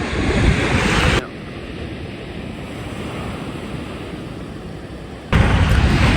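Strong wind blowing by the sea at Monastir, a loud continuous roar of gusts and surf buffeting the microphone, easing to a steadier hiss in the middle before surging again, with no voices.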